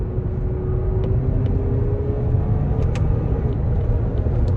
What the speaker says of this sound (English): But that engine sound with the turbo as well